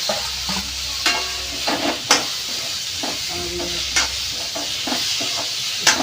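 Food frying in plenty of hot oil in a home kitchen, a steady loud sizzle broken by repeated stirring scrapes and clinks of a utensil against the pan.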